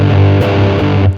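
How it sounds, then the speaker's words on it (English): An electric guitar tuned to drop D through heavy, dirty distortion rings out with a loud, thick low chord that sustains, then drops as it is choked off. "with drop D and this really dirty distortion, and you really need to really attack the strings"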